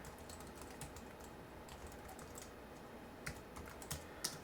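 Keys tapping on a Bluetooth keyboard, quiet and fairly close, in a steady patter with a few slightly louder strokes toward the end.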